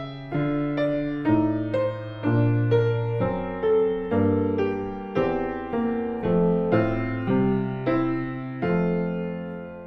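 A Baroque Romanesca chord progression built on a chain of suspensions plays alone as sustained, evenly paced chords that change roughly every half to one second, with layered harmonic tones and no talking.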